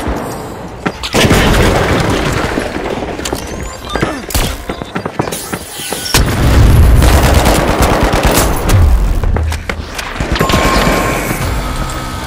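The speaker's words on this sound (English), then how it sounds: "Tossing a frag." Frag grenade tossed in a video game, a heavy boom bursting out amid near-constant automatic gunfire and rattling shots, loud and dense throughout the scene.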